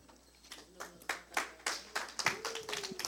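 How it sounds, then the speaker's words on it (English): Scattered audience clapping at a school Islamic event, a handful of sharp hand claps building into a loose ragged burst, close and fairly quiet, with a faint voice underneath. "It's okay, we don't need to clap"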